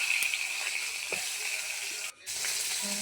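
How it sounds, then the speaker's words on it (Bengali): Eggplant slices, salted and rubbed with turmeric, fry in hot oil in a wok, giving a steady soft sizzle with a brief dip partway through, close and without voices. "বেগুনগুলো দেখো এখন উল্টে পাল্টে ভেজে নিচ্ছি"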